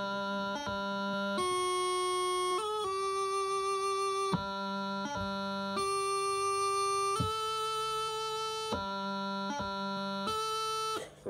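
Bagpipe chanter playing a grip exercise that runs from high A down to low G: a steady reedy melody of held notes broken by quick grace-note articulations, close and solo with no talking.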